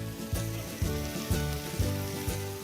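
Burgers sizzle on a hot griddle with a steady, quiet hiss. A soft tick recurs about every half second under it, and nobody speaks.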